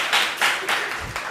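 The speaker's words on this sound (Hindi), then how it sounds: "ताली बजाएंगे" An audience at a church youth service claps in a brief burst of several rhythmic, fairly close hand claps.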